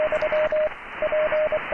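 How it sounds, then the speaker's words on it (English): Morse code tones from a Morse player, a steady pitched beep keyed in short dots and longer dashes set in a hiss of background noise, clear and rhythmic over about two seconds. "making the actual Morse signal low down in the noise"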